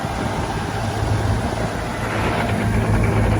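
A tractor engine runs while puddling a flooded field for maize, giving a steady, loud, low drone that holds without a break and has no voices over it.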